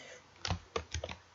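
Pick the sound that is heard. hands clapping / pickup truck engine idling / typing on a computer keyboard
typing on a computer keyboard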